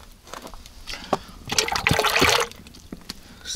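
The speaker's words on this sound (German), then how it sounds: "Ich spüle das noch aus mit Wasser, ich werde die Flasche füllen und das da reinmachen" Water poured into a Dutch oven to rinse it, a splashing, gurgling pour of about a second in the middle of the clip, set between quieter clinks and handling noises.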